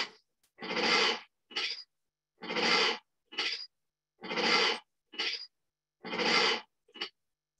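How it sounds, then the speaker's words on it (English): Bengal tiger chuffing in greeting, a friendly prusten made by exhaling through the nostrils: four close, breathy snorting bursts, each a longer puff followed by a short one, in a steady rhythm with silence between. "it's called prustem, or chuffing, which is a sound made by a friendly tiger to greet its friends and caretakers."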